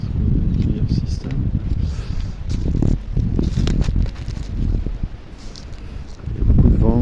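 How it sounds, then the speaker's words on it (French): Strong wind gusting through a three-year-old forest garden in the Pyrenees, Ariège, in March, buffeting loudly against the microphone with rustling bursts while someone talks over it. "Il y a beaucoup de vent aujourd'hui, ce qui empêche d'entendre ce que je dis."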